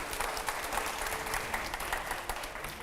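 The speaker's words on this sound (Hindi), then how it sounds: "पहले तालियां हो।" Steady applause from a studio audience at a Hindi televised interview show, dense and continuous clapping throughout at moderate loudness with no talking.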